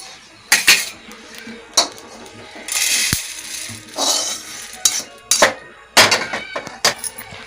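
Coriander seeds go into a pan and are stirred with a metal utensil while a curry leaf spice powder is being made, giving sharp scraping clinks and rattles in irregular bursts, loud and close.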